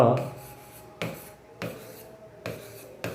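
Math is written on a board in a class lesson on the arithmetic mean: four or five short, close, scratchy strokes come at a quick, uneven pace, with a faint voice in the background.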